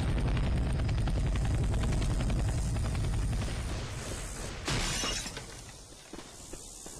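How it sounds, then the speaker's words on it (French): A helicopter in the video game Left 4 Dead 2 thrums loudly and steadily, then a sharp shattering crash cuts in and the noise fades somewhat afterward. "Y a un hélico."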